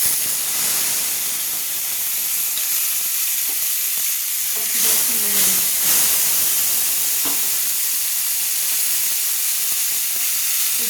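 Ginger paste hitting hot oil in a pan for a potato and pointed gourd curry, giving a steady close sizzle and hiss throughout, with a brief stirring scrape partway through.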